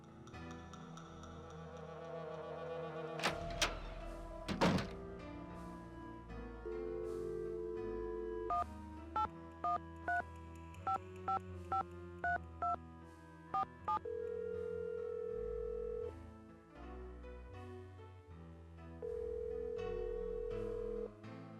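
A telephone number punched in on a keypad in a Nancy Drew video game: a series of short, evenly spaced electronic dial tones, followed by a long steady tone, set against quiet ambient music.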